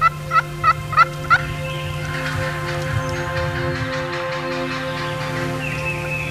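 Several loud, sharp wild turkey gobbles ring out in quick succession over about a second and a half from a spring longbeard gobbler, followed by softer calling and a steady low hum.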